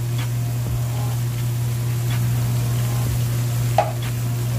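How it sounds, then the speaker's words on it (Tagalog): Pre-sliced mushrooms sizzle in a pan of chicken alfredo, a steady close frying hiss with a low hum beneath and a few soft stirring knocks. "Ang next nating ilalagay dyan ay yung ating mushroom."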